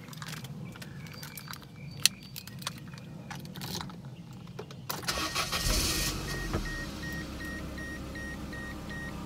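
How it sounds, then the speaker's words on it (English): A 1996 Mercedes-Benz C220 is unlocked with jangling keys and a chime, then the engine cranks and catches about midway, settling into a steady close idle hum. "I'm gonna start up the car and open up the hood for you"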